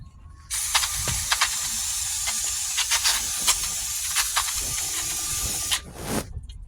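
An aerosol can hisses in a steady, loud spray for several seconds onto car brake parts, with brief rattling clicks along the way, then stops and gives one short final burst.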